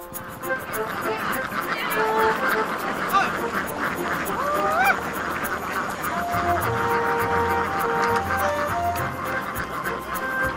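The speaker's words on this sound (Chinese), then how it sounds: "赶鸭子下海是门技术活" A large flock of ducks being herded from a coastal farm down into the sea, honking and quacking in a continuous overlapping din, with brief voices underneath.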